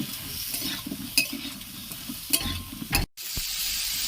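Pieces of pointed gourd (potol) sizzle steadily in hot oil while being stirred, with occasional utensil scrapes and knocks close by, followed by a brief dropout and then continued frying.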